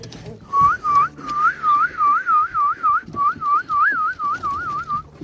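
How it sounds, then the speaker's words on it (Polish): A person whistles to call chickens, a rapid, repeated warbling call of about a dozen short rising-falling bursts in quick rhythm, close and clear over faint background noise. "na kury się nie gwizda. A kto mi zabroni?"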